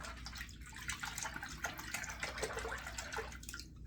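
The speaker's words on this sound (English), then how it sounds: "I'm just rinsing it out afterwards." Running water splashes steadily from a tap as a double-edge safety razor is rinsed after shaving, a continuous broadband hiss and gurgle that stays close and fairly loud throughout.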